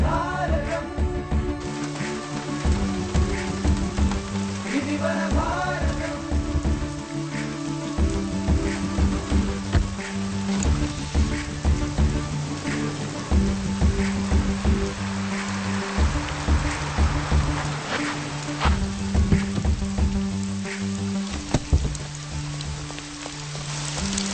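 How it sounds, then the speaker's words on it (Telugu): Steady rain falling at night, a continuous close patter on surfaces with dense drips throughout and no voices. "ఈ వర్షంలో ఈ రాత్రిపూట ఏంటి"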